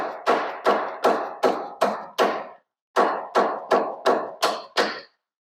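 A hammer drives a bushing into a Muncie 4-speed transmission housing on a '79 Camaro with a bushing driver. It strikes in two quick runs of about six sharp, ringing taps each, with a short pause between, close and alone.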